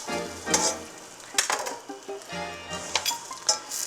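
Onions fry in melted butter for Russian pirozhki with a close, crackling sizzle, broken by a few metallic clinks and stirring scrapes from utensils against the pan.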